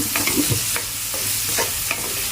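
Chopped onions and green chillies fry in a pan for a Telugu curry, a steady hiss with a few spoon scrapes and taps from stirring, close up and with no voices.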